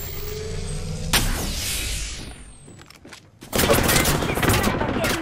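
Bursts of gunfire in the video game Apex Legends, a dense rattle of shots opening, then fading, and a loud sustained volley of rapid shots returning near the end.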